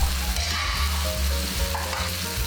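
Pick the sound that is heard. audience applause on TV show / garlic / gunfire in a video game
garlic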